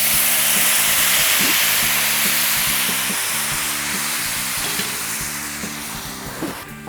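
Mushrooms and onions cooking down in a pan of sauce with stock, giving a steady, loud sizzle and hiss throughout, with faint low clinks and a few sharp knocks near the end.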